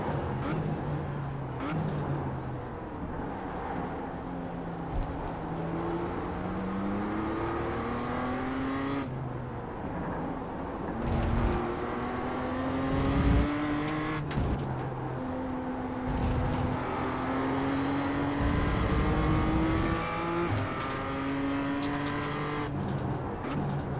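A BMW M2 race car laps Okayama circuit, engine climbing through gears in repeated rising whines with sharp drops at shifts and braking, loud and close, with other cars audible around it.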